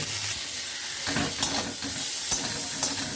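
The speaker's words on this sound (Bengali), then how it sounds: "এবার নিম পাতা দিয়ে দিলাম" Neem leaves frying and being stirred in a hot pan alongside fried eggplant, a soft continuous sizzle broken by several scraping stirs of a spatula, close and fairly quiet with no talking.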